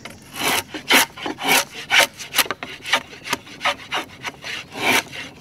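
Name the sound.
smoothing and tapering a wooden shingle by hand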